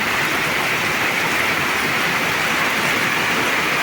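A loud, unbroken wash of rain in Cumilla, Bangladesh, steady and dense throughout with no pauses, like a downpour close at hand.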